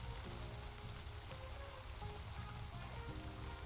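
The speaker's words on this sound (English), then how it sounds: "I think that's the rain. Yeah, that's way too loud." Steady, loud rain ambience from the video game Spirittea, a dense continuous patter of drops on surfaces that fills the whole stretch without pause or talk.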